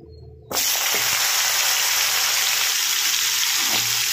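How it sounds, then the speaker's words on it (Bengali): Cut vegetables for Bengali dudh shukto drop into hot oil with a sudden loud hiss, then a steady close sizzle of light frying that continues without a break. "এগুলো একদমই অল্প হালকা ভেজে তুলে নেবো"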